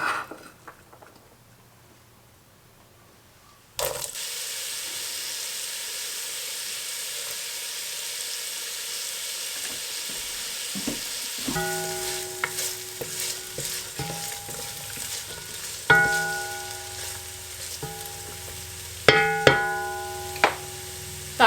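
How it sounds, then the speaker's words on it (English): Chopped onion and garlic cloves hit hot olive oil after a quiet start, settling into a steady close sizzle, with scattered clinks and scrapes of stirring. "That's just going to saute for a few minutes"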